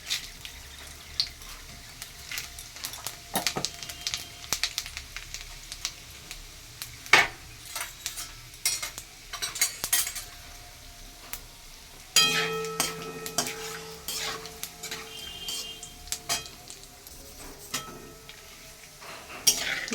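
Whole garam masala, two bay leaves and a little cumin fry in oil in a pan. A soft, continuous sizzle runs under occasional clinks and scrapes of a utensil against the pan.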